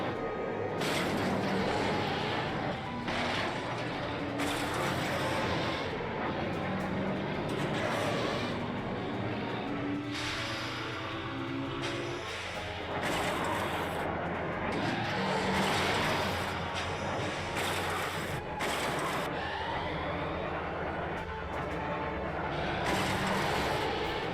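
Podracers roar through a video game race, a dense, continuous engine whine with sweeping passes and skids that stays loud and steady throughout, with no talk over it.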